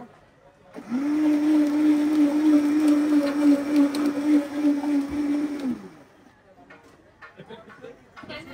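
A blender whirs steadily for about five seconds while blending a date milkshake, a loud sustained motor drone that cuts off abruptly, followed by quieter handling clatter.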